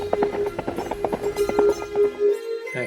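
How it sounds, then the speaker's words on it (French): A horse's hooves clip-clop in a quick, regular rhythm as a rider comes galloping in, with a steady musical tone under the hoofbeats before they stop abruptly. "Cataclope est un mot qui exprime le bruit des sabots."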